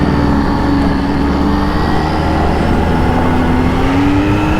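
A 2020 Kawasaki ZH2 motorcycle engine drones loudly and steadily in sport mode, its pitch drifting slightly upward over a few seconds.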